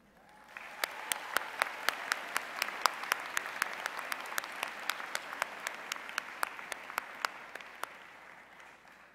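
An audience at a university College of Social Work winter commencement ceremony applauds PhD graduates, a steady broad wash of clapping punctuated by sharp, regular nearby handclaps.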